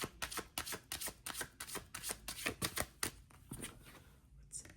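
Tarot cards riffled and slapped in a quick, rhythmic burst of crisp close-up shuffles, then a few slower pulls and flicks as cards are drawn from the deck.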